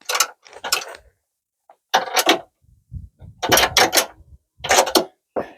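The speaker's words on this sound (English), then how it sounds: "The spanner will work as well." A spanner ratchets on a longer bolt of a radius rod bush plate on a VT–VZ Holden Commodore, in short bursts of metallic clicking with quiet pauses between, close and fairly loud.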